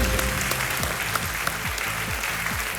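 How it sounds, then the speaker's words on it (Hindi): Studio audience applause on a Hindi TV quiz show (KBC) after a correct locked answer, a steady dense wash of clapping sustained throughout, with faint music underneath and no clear talk. "ताली बज गई पहले से ही"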